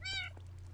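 A cat in the Minecraft video game gives a single short, clear meow over a steady low background hum.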